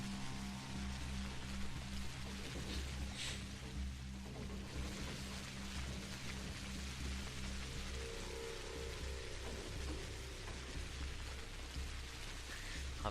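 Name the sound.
rain in video game Pathologic Classic HD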